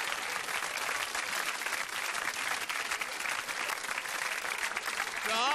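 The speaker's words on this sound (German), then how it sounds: "Applaus." A studio audience at a German television game show breaks into dense, sustained applause that stays even and full throughout, ending with a brief rising tone.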